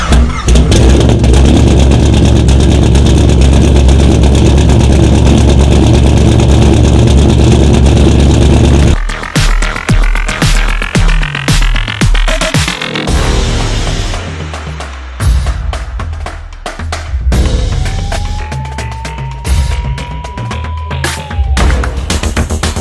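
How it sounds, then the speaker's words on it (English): Loud revving from a twin-turbo 2015 Chevy Corvette Z06 tuned with a Magnuson supercharger, a steady heavy drone breaking into repeated throttle blips and rising, falling revs, with no talking. "So I'm here with Jeremy from 702 Racing and his 2015 Chevy Corvette Z06."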